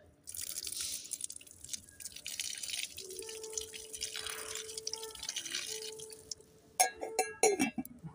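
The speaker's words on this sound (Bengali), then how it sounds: "দাঁড়ান তুলসী গাছে একটু জল দিয়ে দিই আগে" Water poured onto a tulsi (holy basil) plant on a rooftop, a steady trickle with drips running for several seconds, then sharper splashes and clinks near the end.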